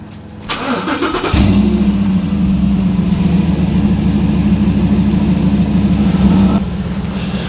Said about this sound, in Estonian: Tahad külmkäivitust või nagu seda käivitust ka või?